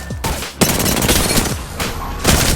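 Loud, close gunfire from the Peacekeeper shotgun and R99 submachine gun in Apex Legends, heavy blasts blending into a dense continuous barrage of shots.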